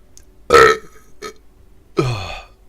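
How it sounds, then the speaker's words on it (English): Two loud, close burps ring out, a short one followed by a longer drawn-out belch, with a tiny grunt between them and no talking. "It's a burp."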